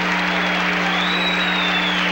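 A boxing crowd applauds after a round in a Livingstone Bramble fight, a dense, continuous wash of clapping and cheering from a large arena audience.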